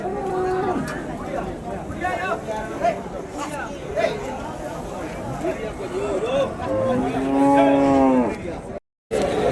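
Cattle moo loudly and repeatedly amid a busy crowd of chattering voices at the Vaniyambadi Saturday livestock market, with a long drawn-out low near the end.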